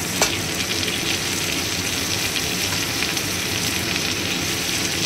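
Chicken gizzard, meat and beans frying with browned onion and spices in a pan, a loud, steady close sizzle with a sharp clank near the start and light stirring, no voices.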